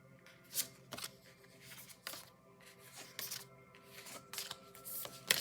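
Oracle card deck shuffled by hand in a quiet room: repeated soft riffling bursts and flicks in an uneven rhythm, close and fairly faint.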